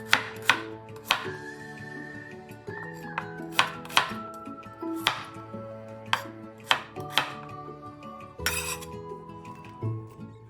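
A knife chops finely through shallots on a cutting board, sharp irregular taps repeating close up over steady background music, with a few light clinks of utensils.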